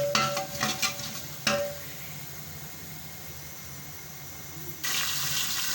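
Onion and whole garam masala fry in hot oil in a pot for a chana pulao, with a few clattering stirs at the start, then a steady close sizzle that turns brighter and louder near the end.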